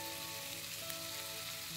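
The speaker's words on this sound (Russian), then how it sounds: "Обжариваем морковь." Carrots cut into thin matchsticks and rounds fry in a pan after golden onions, giving a steady close sizzle with no pauses and no voices.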